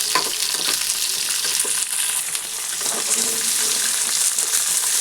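Peanuts and green chilies frying in a pan, a bright continuous sizzle close by, with light crackles and the occasional soft scrape of stirring, steady from start to finish.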